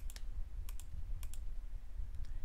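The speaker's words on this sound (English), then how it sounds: "Now I'm right clicking and then shift right clicking to select the next one." Mouse clicks in a 3D modeling program, a few sharp pairs of clicks spaced about half a second apart, close and crisp over a low steady hum.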